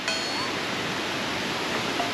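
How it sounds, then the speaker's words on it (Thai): Loud Khlong Lan waterfall roaring as a steady, dense rush of falling water, close and unbroken, with no voices. "มองเห็นน้ำตกลิบๆแล้วทุกคน เสียงดังสนั่นวันไหว"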